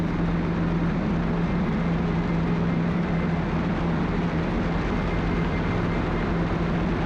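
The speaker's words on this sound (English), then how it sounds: "push the carb heat in and go full throttle, then pitch up for a positive rate of climb" Small training airplane's engine held at full throttle in a climb, a steady, loud, continuous drone with a constant low hum and broadband roar throughout, no voices.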